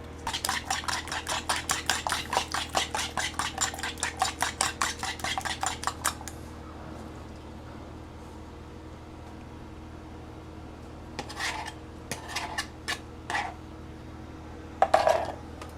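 Eggs being scrambled in a pan on medium-high heat for a Fourth of July cookout: a fast run of rhythmic metal scrapes and taps against the pan, then quiet, then a few scattered clinks near the end.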